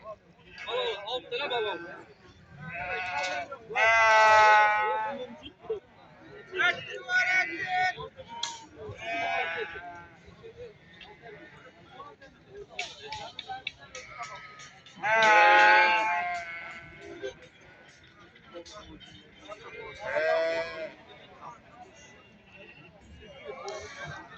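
Sheep bleat repeatedly at a sheep market in Berde, loud nearby calls rising over constant crowd chatter and people talking throughout.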